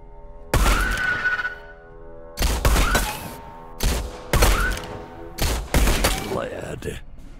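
Gunfire in the video game Blood West: about six or seven loud, close gunshots come in uneven pairs and singles, each a sharp crack with a decaying tail, set over quieter game ambience.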